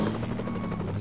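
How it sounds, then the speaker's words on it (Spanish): A helicopter in American Truck Simulator drones steadily nearby, its rotor chop forming a continuous rhythmic thrum that stays loud and even throughout the brief moment. "Helicóptero por allá con una bulliza"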